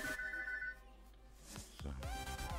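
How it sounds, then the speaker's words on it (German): A telephone rings with a bright electronic ringtone, repeating tonal bursts at moderate volume in an indoor setting, with no one speaking. "kannst du mal bitte ans Telefon gehen?"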